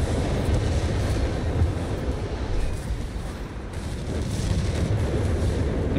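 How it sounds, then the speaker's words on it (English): Artillery bombardment in Company of Heroes 3, with howitzer shells pounding an infantry position as a steady, dense rumble of overlapping blasts and booms that holds loud and continuous without any clear pause. "Jaegers are being bombarded, almost mauled here"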